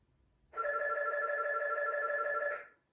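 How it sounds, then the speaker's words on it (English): A telephone rings once in a steady electronic tone lasting about two seconds, starting abruptly after a moment of near silence and cutting off cleanly, with no talk. "I'm gonna wait for the phone to ring."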